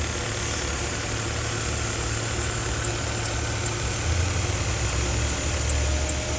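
A 2010 Mercedes-Benz ML350 with a 3.5-liter six-cylinder engine and automatic transmission idles steadily at close range, giving a continuous low hum with a faint tick on top and no talking.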